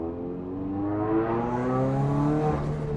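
A turbocharged Toyota GT86 engine revs steadily while driving on track, its rising harmonic drone climbing in pitch, loud and close throughout with no talk.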